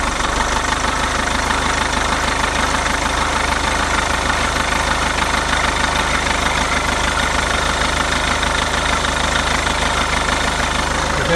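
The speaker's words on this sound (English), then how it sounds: "So now we're going to start it up and see to make sure it doesn't bounce around" Volkswagen engine with a newly installed tensioner and alternator one-way clutch pulley, idling in a steady, loud, continuous drone with fine ticking throughout and no talk.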